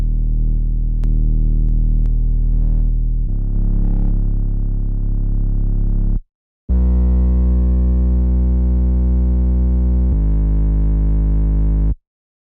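Pop production loop of synths and bass, processed with OTT multiband compression and a further distortion plugin, playing loud and dense with a short gap midway before resuming.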